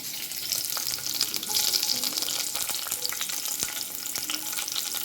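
Homegrown green chilies, slit in two, sauté in a frying pan for a prawn and small-onion roast, producing a loud, continuous sizzle close by with intermittent scraping stirs and no talking.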